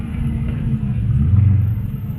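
A Pagani Zonda supercar at Malibu Cars and Coffee gives off a deep, steady engine rumble, close and fairly loud, swelling slightly midway with no voices.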